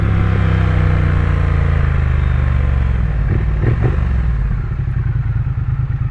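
A Triumph Speed Twin 900 motorcycle runs loud and close with a deep, throbbing engine note that swells briefly in a rev, then settles back to a steady rumble.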